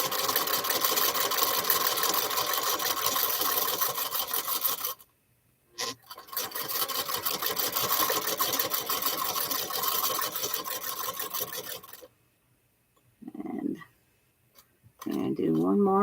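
A sewing machine back tacks while stitching a small fabric wallet, running in steady mechanical bursts loud and close, with two brief pauses as the needle is set down and the work is turned.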